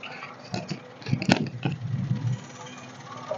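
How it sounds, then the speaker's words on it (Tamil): A Maruti Wagon R, a single-owner used car, idles with a soft, steady low hum and very little engine noise, joined by a few faint clicks and taps near the car. "வண்டியோட இன்ஜின் சவுண்டு கேளுங்க."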